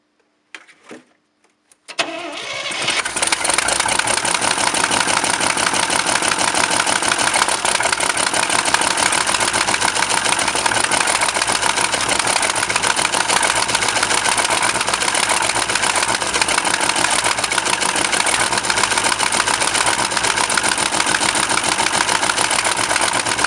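A 1967 International 1200 truck engine, flooded with gas in Alaskan winter after years of sitting, cranks briefly and then catches. It settles into a loud, steady, rough idle that runs on without a break.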